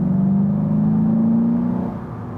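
A Seat Ibiza Cupra facelift with a 192 hp engine, in sport mode, revs with a steady, rising drone heard from inside the car. The engine note climbs smoothly for about two seconds, then eases slightly.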